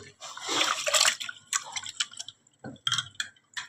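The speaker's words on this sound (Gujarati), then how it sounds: "મગની દાળ અને ચોખાને સરસ રીતે ધોઈ નાખીશું" Moong dal and rice are rinsed in water by hand, with splashy sloshes, drips and trickles coming in uneven bursts, close and fairly loud, separated by short quiet gaps.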